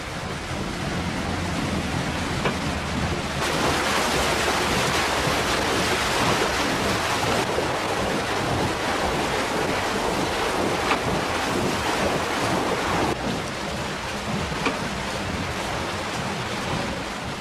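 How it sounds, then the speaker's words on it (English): An undershot water wheel at a stoneground mill turning in the stream, heard as a loud, steady rushing and splashing wash of water that continues without pause. "The power of the water striking the paddles low down impelling the blades to turn the wheel and main shaft that carries the drive within the building"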